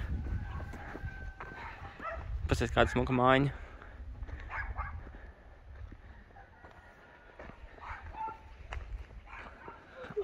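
Village dogs barking in Burlacu, Moldova, heard during an outdoor walk. Barks and a rooster-like crow rise at moments beneath a person talking over steady outdoor background noise.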